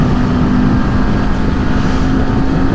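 A Yamaha MT-09 motorcycle accelerates at full throttle, a loud, sustained engine roar mixed with heavy wind rush, steady and close throughout.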